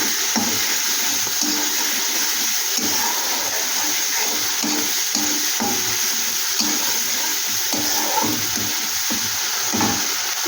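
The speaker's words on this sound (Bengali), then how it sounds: "এখানে দিয়ে দিচ্ছি গরম মশলা।" Whole spices of garam masala fry in hot oil, giving a loud, steady crackling sizzle that runs unbroken throughout, with scattered clinks of utensils over it.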